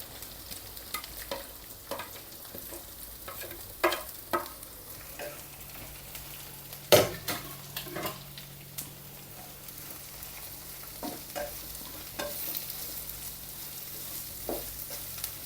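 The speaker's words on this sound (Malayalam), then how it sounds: "ഇത് നല്ലപോലെ ഒന്ന് വാട്ടിയെടുക്കേ. നമ്മുടെ ഉള്ളി എല്ലാം നല്ല വാടി." Large onion slices sautéing in a pan for a jackfruit masala, a steady low sizzle broken by repeated scraping stir strokes at irregular intervals, close and moderately loud, with no talking.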